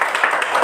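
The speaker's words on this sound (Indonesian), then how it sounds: "Iya, kita sama-sama tepuk tangan dulu." Brief burst of a classroom group clapping together, a dense, even patter of hands lasting under a second, fairly loud and close.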